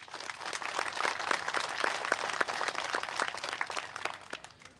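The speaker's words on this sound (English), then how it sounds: "So let's give them a big round of applause." Applause from the audience at a city council meeting after singers perform the national anthem, crisp individual claps forming a moderate, steady round that swells and then tapers toward the end.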